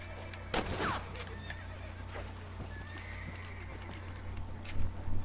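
A horse in the video game Red Dead Redemption whinnies clearly near the start, with hoof clip-clops and faint ambient sounds continuing under a low background.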